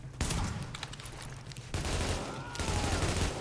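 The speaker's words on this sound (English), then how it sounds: "This shotgun is insane." Shotgun blasts in The Division video game, a few loud, sharp bursts in quick succession, each leaving a noisy decaying tail, with no talking.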